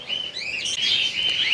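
Cockatiels and lovebirds in a breeding aviary, chirping in bright overlapping tweets close by, continuous over a soft background.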